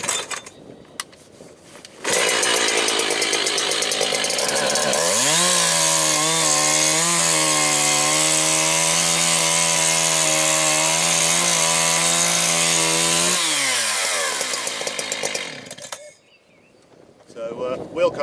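A chainsaw revs up and runs loud and steady for about ten seconds, its engine pitch wavering as it bites into logs for firewood, then winds down to idle.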